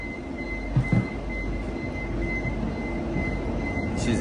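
A train carrying vehicles rumbles steadily through an undersea tunnel, with a constant low roar, a faint high whine, and a couple of brief clunks early on.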